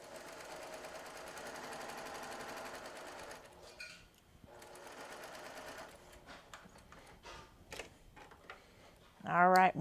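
A sewing machine stitches down a log cabin quilt block in a steady whirring run, then slows into shorter bursts and single stitches, ending with a louder mechanical rattle.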